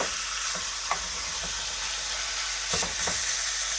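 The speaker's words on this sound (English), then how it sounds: "Let's put that meat in." Pork meat sears in a hot cast iron pan, a steady bright sizzle at moderate level with a few soft taps and scrapes of a utensil.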